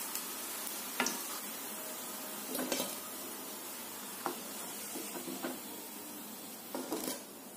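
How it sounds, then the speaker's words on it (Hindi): Jackfruit koftas fry in hot oil with a soft steady sizzle, punctuated by several sharp clinks and scrapes of a metal spoon against the pan as they are lifted out. "देखिए कोफ्ते हमारे तल चुके हैं।"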